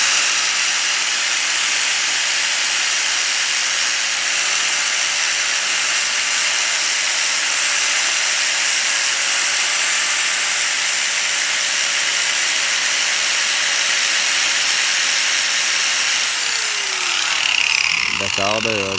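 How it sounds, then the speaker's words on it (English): A grinder works on rear brake parts from a 2013 Chevy Malibu, giving off a steady, loud, high hiss that runs without a break for most of the stretch and then tails off near the end. "You can take a grinder, but you got to be careful."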